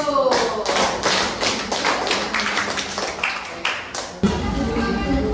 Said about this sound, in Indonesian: kita kasih aplaus kelompok 1